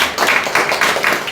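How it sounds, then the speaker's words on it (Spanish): Church congregation applauding during a Spanish-language service, a dense burst of hand claps heard close and alone for a brief moment. "¿Cuántos le pueden dar un aplauso al Señor?"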